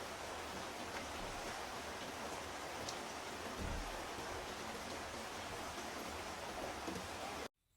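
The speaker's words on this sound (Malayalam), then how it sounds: "നല്ല മഴൻ്റെ സൗണ്ടാണ് കേട്ടോ കേൾക്കുന്നത്" Steady heavy rain pouring down as a dense, even hiss, with no voices.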